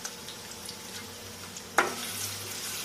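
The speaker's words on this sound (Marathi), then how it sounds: "ह्याच्यामध्ये आपण एक मध्यम आकाराचा कांदा फोडणीसाठी घालून घेऊया आणि चांगला परतून" A medium onion drops into hot oil for tempering, setting off a sudden loud sizzle partway through that keeps frying steadily over a quiet kitchen background.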